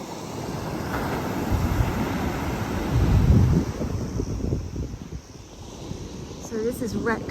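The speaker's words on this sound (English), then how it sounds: "whoa, look at the waves" Ocean waves at Wreck Beach, a broad rumbling wash of surf with heavy wind buffeting the microphone, swelling loudest near the middle; faint voices appear toward the end.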